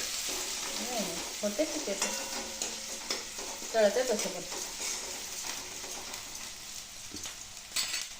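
Onions and chilies fry in oil in a home kitchen, stirred with a spatula that scrapes and clinks against the pan over a soft continuous sizzle, fairly quiet, with brief bits of talk.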